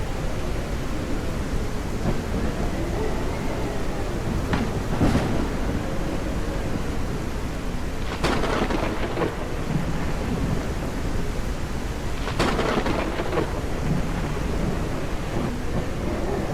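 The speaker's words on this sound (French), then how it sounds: "Oh, il y a une grosse tempête en approche." A heavy thunderstorm rages in the SurrounDead survival video game, with steady loud rain and wind and several sharp thunder cracks and rolling rumbles spread across the stretch, no voices.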